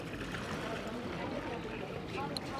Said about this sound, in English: You can hear the waves coming in right beside us here.